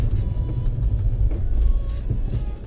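A VW Golf 2 heard from inside the cabin while driving on a cold day: a loud, continuous low engine and road rumble with slight swells and no voices.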